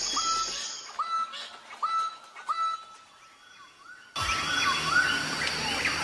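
A Lesser Bird of Paradise calls at its display tree in the forest, a series of four or five loud, whistled upward-bending notes repeated at a steady pace, before a sudden rush of rustling broadband noise takes over.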